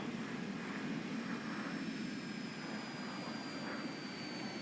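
An F9F-8 Cougar's jet engine throttles up in the War Thunder flight game. It gives a steady, moderately quiet roar with a thin, sustained whine riding on top, and no talk.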